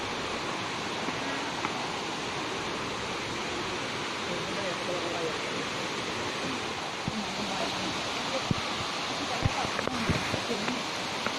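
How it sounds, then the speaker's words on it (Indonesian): Rushing water from the Putuk Truno waterfall forms a steady, dense roar heard at a distance, with scattered faint clicks and movement sounds near the end. "Akhirnya sampai air terjun."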